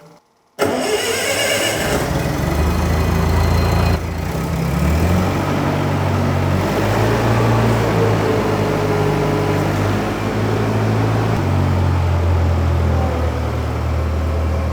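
An old ALMACO plot combine's engine cranks and catches after new gas is added, then runs loud and close with a steady mid-pitched drone, its tone shifting as the machine is worked backwards and forwards.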